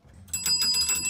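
A small bell rings rapidly in a quick trill, close and bright, after a brief moment of near silence.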